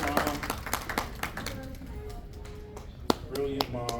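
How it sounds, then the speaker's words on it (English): Scattered audience clapping in a room, uneven and moderately close, with distinct individual claps and a sharp slap near the end, mixed with voices talking. "Clap for her, clap for her."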